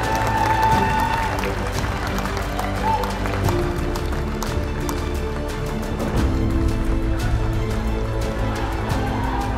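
An audience at an arm-wrestling league award ceremony claps steadily and loudly, a dense continuous patter of many hands with some crowd noise underneath, lasting throughout.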